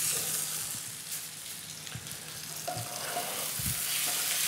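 A pork chop with ginger sizzles steadily in a hot pan, a constant bright frying hiss with a few soft clinks and stirring knocks, no talking.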